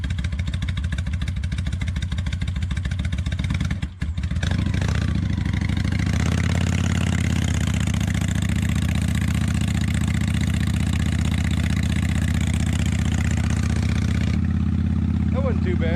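A vintage Italian carbureted motorcycle cranks briefly, catches and settles into a steady throbbing idle nearby, with people talking over it.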